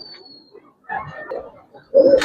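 Giribaz and coloured pigeons kept for sale give soft, low cooing calls in short bursts, close by, with the loudest call at the end and quiet gaps between the calls.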